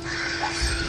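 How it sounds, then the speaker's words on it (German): Sea vulture cry from the video game Risen, a single harsh, raspy caw sustained for about a second over steady game background sound. "Oh, ich hasse diese Seegeier."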